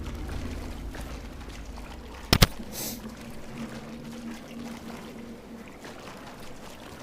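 Water pouring in the Portal 2 video game, a faint steady wash of flowing liquid with a sharp brief clank in the middle, no talk.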